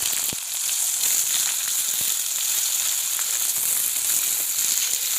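Potato pieces fry in hot oil with panch phoron spices, a bright continuous close sizzle that holds steady, broken by a few faint clicks of utensils, no talking.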